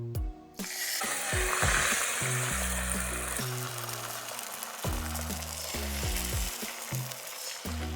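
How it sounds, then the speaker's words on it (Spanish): An egg fries in a pan with a few drops of olive oil, sending up a steady sizzle that runs beneath loud background music. "En una sartén pones un par de gotitas de aceite de oliva y el huevo para adentro"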